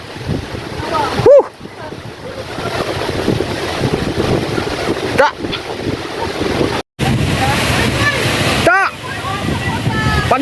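Strong typhoon wind roars and buffets the microphone with rushing, surf-like noise, while voices talk and call out over the gusts.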